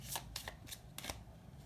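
Tarot cards being shuffled and drawn from a deck, a few quick crisp riffles and slaps close by, in short bursts with brief pauses between them.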